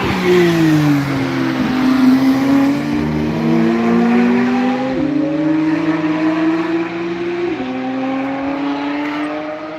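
Porsche cars driving the Nürburgring, engines revving hard through rising and falling gear changes, loud and close, with more than one car's tone layered together.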